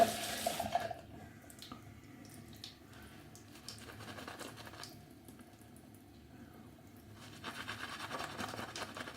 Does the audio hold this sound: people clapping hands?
no